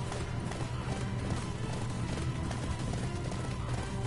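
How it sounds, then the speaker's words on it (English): A horse gallops in Attack on Titan's Expedition Mode, its hoofbeats rapid and continuous within a dense, loud game mix of wind and rushing motion. "So far the horse that I have is the quickest one and the one with the most stamina."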